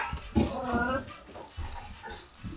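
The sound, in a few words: puppy whimpering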